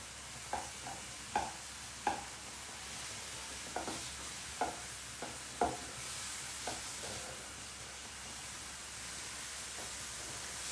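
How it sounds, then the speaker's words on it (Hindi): Mushrooms sautéing in a pan give a faint, steady sizzle with scattered light clicks and scrapes of stirring, close and quiet, with no voices. "सो यू कैन सी हमारे मशरूम्स अच्छे से सौते हो रहे हैं"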